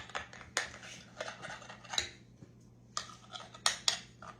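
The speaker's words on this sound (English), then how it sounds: "Let me get me a little knife. We'll cut that off." Small knife trimming raw persimmon pie dough edges in a home kitchen, a series of light scraping cuts and taps against the pie dish, close and fairly quiet over a low steady hum.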